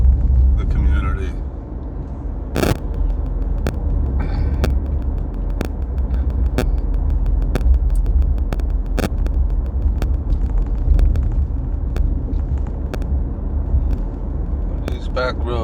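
A car travels over bumpy back roads, its steady low rumble running throughout with sharp knocks and jolts breaking through at irregular intervals.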